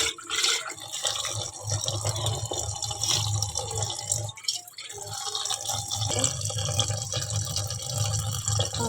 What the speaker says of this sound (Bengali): ভালো করে ঠান্ডা জল দিয়ে নুডলসটাকে ধুয়ে নিব